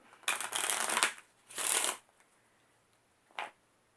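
A deck of playing cards being shuffled during a magic trick, with two long riffling bursts close together and then one short final riffle, in a quiet room with no speech.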